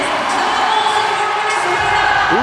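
A crowd cheers loudly at a CrossFit Games sandbag ladder event, a dense, sustained roar of voices through the whole short stretch.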